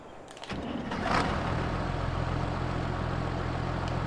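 A Case Farmall tractor of about 140 horsepower in Farming Simulator 22 cranks and starts, then settles into a steady, close diesel idle rumble that holds to the end.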